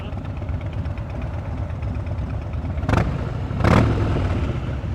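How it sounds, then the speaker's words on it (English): A Harley-Davidson Crossbones motorcycle engine runs close by with a steady, throbbing rumble, with two short swells of revving partway through. "And man, this engine is just so good."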